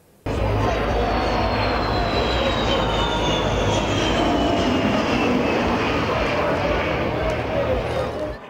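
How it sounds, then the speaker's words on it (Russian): Three Su-34 multirole fighter jets fly overhead, a loud sustained roar with a slowly falling whine that starts abruptly, holds steady for several seconds and then drops away. "В небе три многофункциональных истребителя Су-34"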